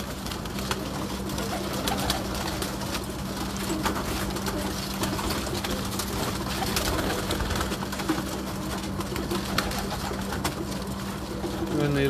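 Neel dumba pigeons, a well-known breed, coo on a rooftop loft in a continuous dense chorus of many birds, with a steady low hum underneath throughout.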